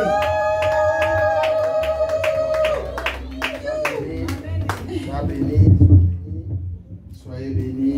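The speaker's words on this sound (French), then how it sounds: "Nous allons accueillir l'homme de Dieu par des acclamations et des cris de joie" A church congregation claps rhythmically to welcome Pastor Joseph, the even beat of hands running under a loud voice and music, with crowd noise swelling toward the end.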